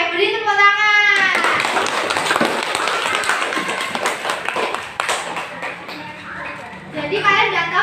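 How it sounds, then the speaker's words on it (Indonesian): Schoolchildren in a third-grade classroom clap together after a song, a patter of hand claps mixed with children's chatter and voices at start and end. "Oke, beri tepuk tangan"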